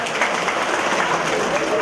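A congregation at a Catholic Divine Mercy service bursts into a round of applause: dense, continuous clapping from many hands filling the church, steady and fairly loud throughout.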